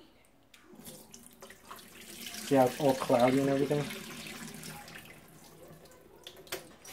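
Tap water runs into a bowl of sliced potatoes being rinsed of starch for homemade chips, a steady close splashing stream that swells in the middle, with a person talking over it.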